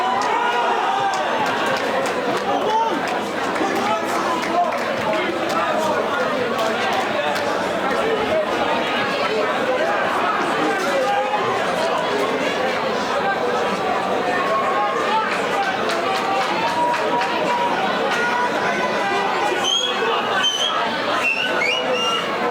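A large crowd at a UKFC bantamweight title fight roars and chatters continuously, a dense steady wash of cheering and babble with scattered shouts rising above it.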